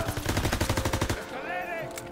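Shotgun fire in the World War II shooter Call of Duty: WWII, a rapid run of loud, close blasts for about a second, followed by a fading ringing tail.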